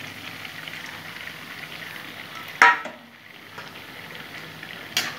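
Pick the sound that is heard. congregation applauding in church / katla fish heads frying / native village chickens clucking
katla fish heads frying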